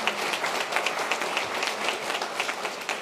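A short burst of audience applause at a backcountry avalanche workshop talk, dense overlapping claps at a steady level with no talking.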